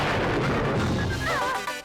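Gruntilda, the witch boss in the Banjo-Kazooie video game, fires in a dense, sustained barrage of loud booming blasts with rising magical whistling tones, no talking.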